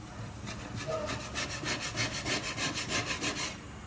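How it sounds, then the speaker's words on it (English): Rhythmic back-and-forth scraping of dried acrylic pour paint off a nightstand, a steady series of close rasping strokes with no talk. "maybe it will completely scrape off easily"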